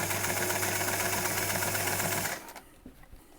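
A sewing machine stitches steadily through thick kilt box pleats in a fast, even mechanical chatter, close up, then stops abruptly, leaving faint handling noises.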